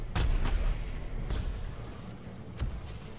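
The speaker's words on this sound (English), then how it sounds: "And now I make fireworks." Fireworks go off in a video game as a few sharp, booming bursts spaced irregularly across a few seconds, loud and close, with no voices.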